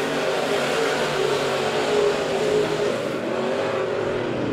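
Midwest Mods race cars roar around the dirt oval at Monett Motor Speedway during a heat race, a dense, continuous engine drone that stays loud and steady throughout.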